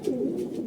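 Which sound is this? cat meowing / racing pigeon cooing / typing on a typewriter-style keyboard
racing pigeon cooing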